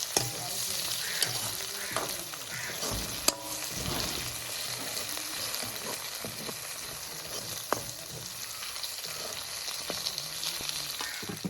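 Pandan and curry leaves stirred as they fry in a pan for tomato rice, giving a steady close sizzle with scattered spoon scrapes and pops throughout.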